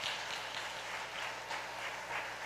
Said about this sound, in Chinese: 好，我们用掌声